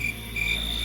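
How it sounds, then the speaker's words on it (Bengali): Crickets chirp at night outside a window, a steady, unbroken trill that holds at an even level from start to finish with no voices. "বাইরে ঝিঝি পোকারা অবিরামভাবে ডেকেই চলেছে।"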